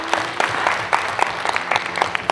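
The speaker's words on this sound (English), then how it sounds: "So can you give yourselves a round of applause?" Short burst of audience applause at a keynote talk, dense overlapping claps at steady loudness, no speech.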